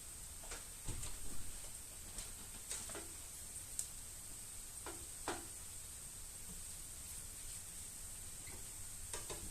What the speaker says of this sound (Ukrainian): И вкидаем киплячу олію.